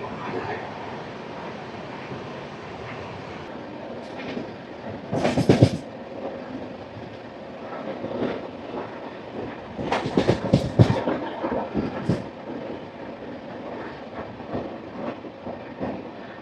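Rayalaseema Superfast Express running through Borbanda station without stopping, a steady rolling rumble from on board with bursts of louder wheel clatter and rattling around the middle of the run.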